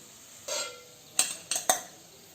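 Fried onion being lifted out of a frying pan onto a plate: a brief soft scrape, then three sharp, close metallic clinks of utensil against pan and plate, with no talk.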